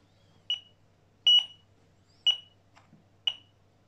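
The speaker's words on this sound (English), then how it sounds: "I will take off the aerial and you will see that the beep will go down" Short electronic beeps from a Microsensory RS series receiver, four evenly spaced tonal chirps, fairly clear over a low hum, with no talk.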